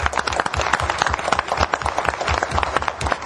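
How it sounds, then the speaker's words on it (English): A crowd at a county board of commissioners meeting breaks into a steady round of applause, dense overlapping claps filling the room at a moderate, even level for the whole stretch. "So a round of applause by everybody."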